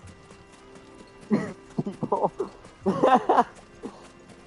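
Chocobo footsteps from Final Fantasy XVI run as a quick series of clip-clop thuds in two bursts, loud and near, while someone talks over them.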